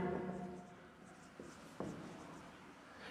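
A pen scratches on paper as a maths question is jotted down in short, with soft faint strokes and a couple of small taps, close and quiet.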